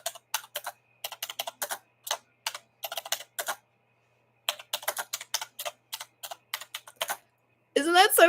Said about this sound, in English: I love hearing someone type.